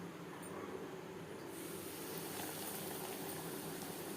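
Chicken popcorn frying in hot refined oil over a medium flame, giving a steady, faint, even hiss throughout.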